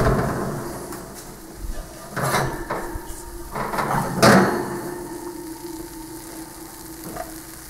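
Baked eggs sizzle and crackle in a hot dish, a moderate continuous fry broken by a few louder bursts and clinks of cookware, no talking.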